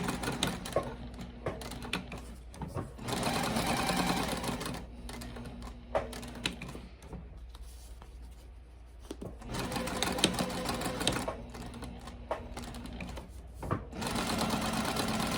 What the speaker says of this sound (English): I'm sewing on my Juki TL2010q.